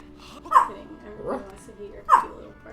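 Two sharp, gruff dog barks come from the Legend of Zelda: Skyward Sword video game, spaced well apart, with softer vocal sounds between them. The barks may be a human voice imitating a dog.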